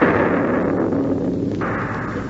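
Cannon fire in a 1941 radio drama battle scene on a bluff above a stream bed: a sustained, loud rumbling roar of artillery that fills the clip without a break, with no speech over it.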